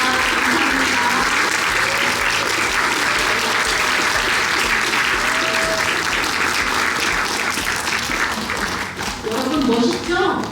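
A crowd at a spring-semester graduation ceremony of a Korean language institute claps loudly and continuously for the graduates, dense applause with voices murmuring and brief calls underneath, dipping slightly near the end before picking up again.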